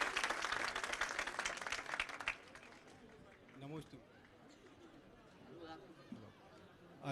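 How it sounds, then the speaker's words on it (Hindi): Crowd applause at a Jain religious question-and-answer gathering, dense clapping for about two seconds that quickly fades out, followed by quieter room sounds and a voice. "एक बार जोरदार तालियां सभी लोग जरूर बजा देंगे"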